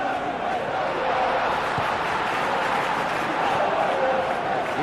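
A huge stadium crowd in Munich murmurs and roars in a steady, continuous wash of noise in Football Life 26, with a few faint shouts rising out of the dense hubbub.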